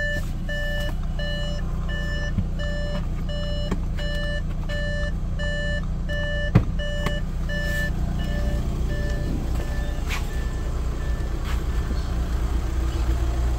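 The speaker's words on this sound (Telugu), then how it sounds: "ఇంజన్ స్టార్ట్ అయిపోయింది, పార్కింగ్ మోడ్లో పెట్టామన్నమాట" A 2.0 TDI diesel engine in an Audi A6 with automatic transmission idles steadily after starting. A low engine rumble runs throughout under a repeating electronic warning beep, with occasional clicks and knocks nearby.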